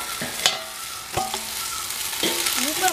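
A mutton leg roasts in oil in a village kitchen, giving a soft steady sizzle with a few scraping stirs and brief utensil clinks, heard alone and close.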